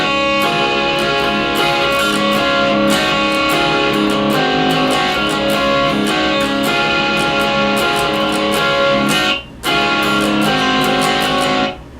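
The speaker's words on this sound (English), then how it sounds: "So for the bridge, you're going to keep your distortion on, and you're going to use the same chords from the intro." Distorted electric guitar strums bridge chords in a dense, sustained wall of sound with sharp rhythmic pick attacks, loud and close, with a brief break near the end and no talking.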